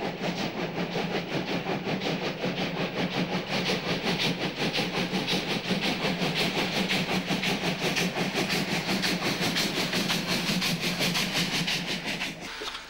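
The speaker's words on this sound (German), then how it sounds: "Die Dampfjumbos im Ruhrgebiet sind für sie noch einmal vor schweren Zügen unterwegs." A coal-fired class 44 steam locomotive hauls a heavy train through the Ruhr area, a loud, steady rapid exhaust beat chugging continuously for several seconds before easing off at the end.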